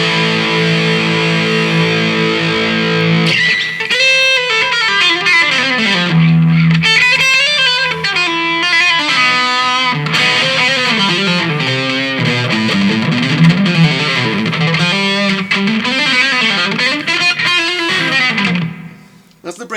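Overdriven electric guitar, an Epiphone Riviera on the bridge pickup, plays sustained notes and bends with a gritty, distorted tone, loud and close, ending abruptly.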